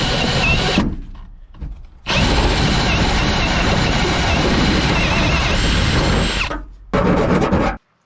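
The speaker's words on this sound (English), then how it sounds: "Just drilled the hole up in the ceiling, roof, I guess." A power drill bores a 1-inch hole through a van roof during a solar panel install, running loud and steady in three long bursts separated by brief pauses.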